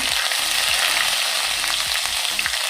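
Asafoetida, cumin and ginger-garlic fry in hot ghee for dahi bhindi with a loud, dense crackle that runs throughout, over a repeated low pulsing rumble.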